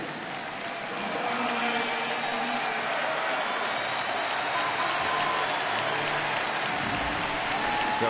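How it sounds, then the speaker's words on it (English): A baseball stadium crowd gives a sustained ovation, steady applause and cheering holding loud and even throughout with no announcer talk over it. "Got a bigger ovation the second time around after the steal of home in the first inning"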